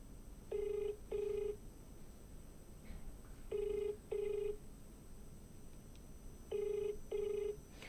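An outgoing live phone call rings unanswered: three pairs of double ring tones, each burst short and even, spaced by quiet gaps with faint background.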